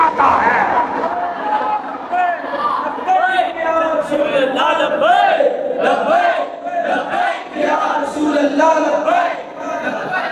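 A large crowd at a religious gathering chants slogans in loud, massed unison, the voices rising and falling in repeated waves throughout with little pause.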